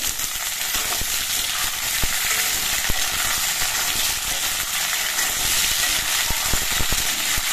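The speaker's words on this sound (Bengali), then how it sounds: "সজনের ডাঁটাগুলো দিয়ে 4-5 মিনিটের মতো কিন্তু ভেজে নিতে হবে।" Moringa drumsticks fry in hot oil in a pan, a steady close sizzle throughout with occasional sharp clicks and scrapes as the pieces are stirred.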